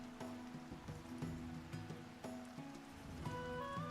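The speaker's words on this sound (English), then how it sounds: "It's raining again." Steady rain patters in a tavern management video game, a soft even hiss under light game music with plucked notes and a small chime rising near the end.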